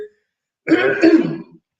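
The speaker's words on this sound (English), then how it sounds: "Sorry, I had to clear my throat." Someone clears their throat once, close and loud, in a rough, rasping burst lasting under a second, with quiet around it.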